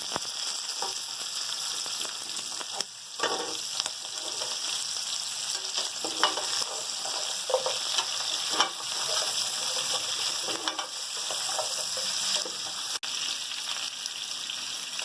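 Goat trotters frying with a steady sizzle in a pan, with scrapes of stirring and occasional clinks throughout, close and even.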